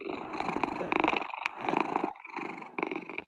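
A person imitates a cat's purr with the voice, producing rough rhythmic rattling bursts close to the microphone, broken by short pauses into about four phrases.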